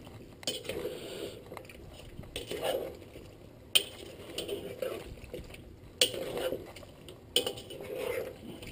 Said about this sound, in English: Then we give that a, a good stir.